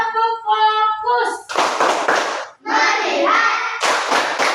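Schoolchildren in a classroom clap hands in a group clapping game, several sharp rhythmic bursts of claps alternating with the class chanting together, the claps close and loud.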